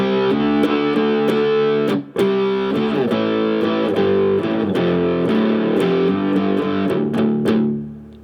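A loud, close distorted electric guitar runs a main riff at a quicker tempo, with choppy muted strums and one short gap, and no one talking.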